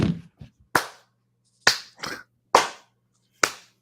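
Sharp hand claps ring out close by, about six of them in an uneven rhythm with gaps between, some single and some in quick pairs, over near silence.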